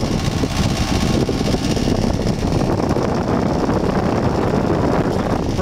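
A Broan 3-ton heat pump runs with its compressor and fan going, a steady close broadband whoosh and low rumble that holds even throughout.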